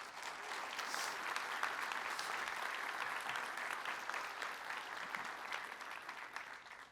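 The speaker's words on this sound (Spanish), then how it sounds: "Dele un aplauso al Señor" Sustained applause from a church congregation, dense and even for several seconds with no break, moderately distant with a faint voice beneath.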